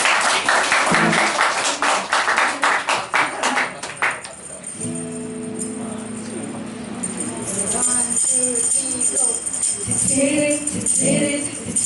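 An audience at a Thanksgiving celebration claps in a burst of loud applause that thins out after a few seconds, followed by quieter room sounds and faint voices.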